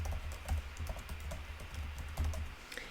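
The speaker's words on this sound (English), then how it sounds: "I'm going to type pudge factor" Quiet keystrokes tapping on a computer keyboard in short irregular bursts, soft and close with no talk.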